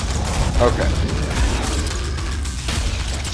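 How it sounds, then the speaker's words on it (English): Gunfire in the video game Killing Floor on the custom map Disco: dense, continuous rattling shots and booms fill the whole stretch, loud and close, with a faint voice underneath. "Stop shooting me"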